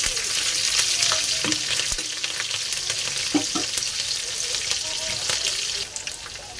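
Green chilies dropped into hot oil with garlic for a Maharashtrian methi bhaji, hissing and crackling in a steady loud sizzle with sharp pops and the scrape of stirring, close up and without talk.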